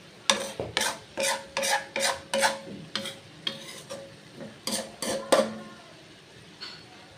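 Gima (titari) greens frying in a pan, stirred with a spatula in a rhythmic run of a dozen or so close, sharp scraping strokes over a light sizzle, then trailing off.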